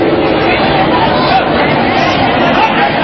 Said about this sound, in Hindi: भीड़ चली आ रही है।